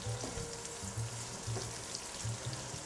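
Sauce simmering in a pan for buffalo chicken wing dipping sauce, a steady sizzle and bubbling with soft low pops recurring throughout, close and even, with no talking.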